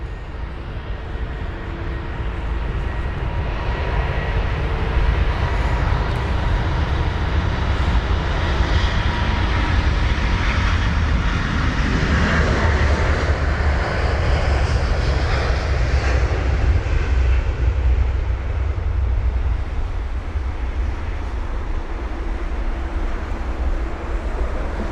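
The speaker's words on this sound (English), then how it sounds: "It's a 1-year-old A350 registered in March 2022. And on the move it goes." A British Airways Airbus A350 jet airliner moving at Heathrow airport gives a loud, steady engine roar with a deep rumble and a broad whine. It runs unbroken throughout, swelling slightly as the aircraft passes.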